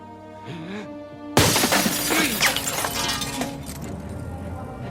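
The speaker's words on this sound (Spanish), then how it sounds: "¿Por qué rompiste el vidrio?" Glass shatters loudly and suddenly after a quiet stretch, a sharp crash followed by a dense spray of tinkling shards, with some voices faintly present.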